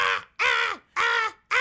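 A parrot squawks in four loud, harsh, harmonic-rich calls, each about half a second long with short silent gaps between them, heard close by during an indoor Christmas family programme at a church.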